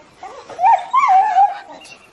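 A dog gives a short series of whining, yelping barks, close and fairly loud, with a brief pause between them and nothing else around it.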